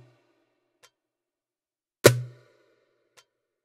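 Darbuka slap with a key-off release sound from a Yamaha PSR-A5000 arranger keyboard drum kit: a single sharp, loud hit that decays quickly, set between faint soft ticks, otherwise silent.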